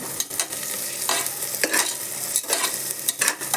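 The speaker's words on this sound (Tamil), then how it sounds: "ரெண்டு வெங்காயம் வந்து நல்லா செவக்க வதக்கிக்குவோம்" Two onions sauté and sizzle in a small pot for a one-pot biryani, a steady close frying crackle with stirring scrapes and spoon knocks, no voices.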